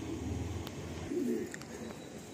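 Madrasi pigeons coo softly in a loft at Sonarpur, low rolling coos repeating close by, with faint chirps above.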